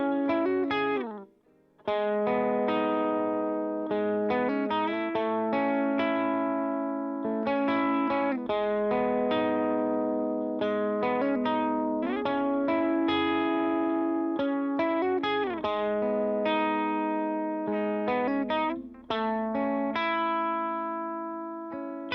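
Electric guitar played through an HX Stomp effects unit in a worship-style rig produces continuous melodic lines and sustained chords, lightly driven with chorus and reverb, steady and upfront with no talking.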